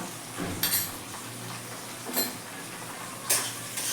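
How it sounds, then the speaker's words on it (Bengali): A spice paste of ginger, garlic, onion and ground green chillies fried and stirred in a pan for chicken curry with potatoes. Soft scraping plays under a low sizzle, broken by three sharper metallic clinks of a spoon against the pan. "এবার আমি ভালো করে মশলাটা কষিয়ে নেব"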